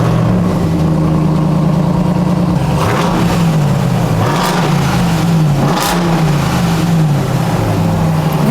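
A Dodge Ram TRX pickup truck engine rumbles loudly and deeply close by, revving up and down several times with a throaty growl and no talking.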